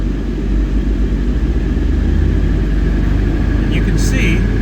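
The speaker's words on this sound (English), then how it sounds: "I'm going to speed up the engine a little bit" A car engine revs up steadily during an air-conditioning check, its low rumble building and holding loud and close with no talk over it.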